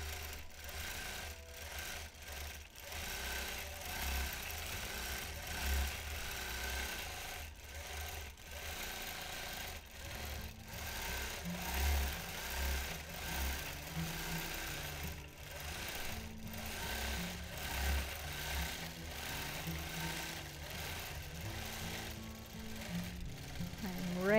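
A longarm quilting machine stitches a freehand design, its fast needle chatter forming a soft, steady mechanical buzz with brief pauses and shifts in pace, fairly quiet, while a person talks intermittently.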